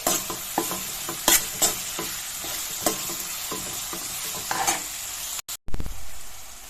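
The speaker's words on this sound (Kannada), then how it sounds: "ನೀರುಳ್ಳಿ ಸಾಫ್ಟ್ ಆಗೋ ತನಕ ಹುರಿಯಿರಿ." Onions fry in a pan for chicken pulao, a steady sizzle broken by regular clinks and scrapes of a spoon stirring, close up and with no one speaking.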